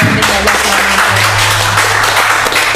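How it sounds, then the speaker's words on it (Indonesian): Audience applause in a podcast studio, a dense, steady wash of clapping from a room of listeners that fills the whole stretch at an even, fairly loud level. "saya minta tepuk tangan dulu dong"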